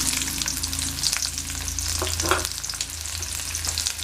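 Chopped onions hit okra already frying in a pan, producing a loud close sizzle and crackle with a brief surge of spattering partway through, no voices.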